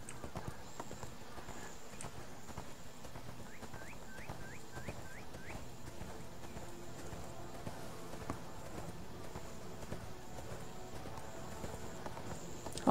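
A ridden donkey's hoofbeats patter steadily through ArcheAge's outdoor game world, mid-level and continuous, joined by a brief bird-like chirping run partway through.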